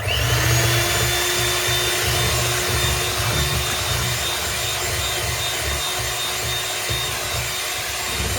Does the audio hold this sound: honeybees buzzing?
no